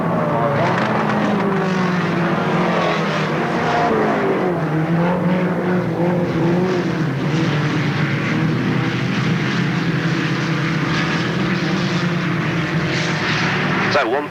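Stock cars roar together down the back straight at Alwalton Raceway in 1983, a loud continuous drone of engines with shifting pitches, while a commentator talks over it.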